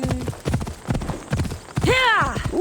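Horse hooves clip-clopping in the video game Assassin's Creed Odyssey, a quick steady trot up close, ending in a loud neighing whinny.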